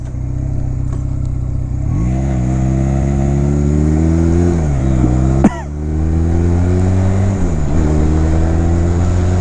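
A 2009 Honda Rebel 250 motorcycle engine accelerating on the road, loud and close, its pitch climbing through the gears with brief dips at each shift and a sharp clatter midway, with steady wind rumble underneath.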